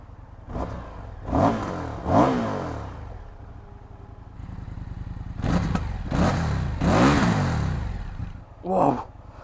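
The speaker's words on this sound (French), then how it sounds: "je vais démarrer la bête" An Indian FTR 1200 motorcycle engine starts, then revs in several loud bursts that rise and fall, idling rumbling steadily between them, close by.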